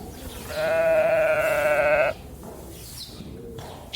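A single sheep lets out one loud, sustained bleat lasting about a second and a half. A quieter, brief second call follows, with no talking.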